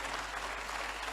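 Audience at an empowerment and transformation summit applauds steadily, a faint, even wash of many hands clapping with no voices over it.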